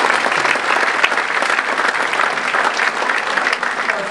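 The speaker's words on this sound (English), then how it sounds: "Let's give her a round of applause." An audience gives sustained, dense applause for a scholarship honoree at an auto industry women's awards event, loud and steady throughout.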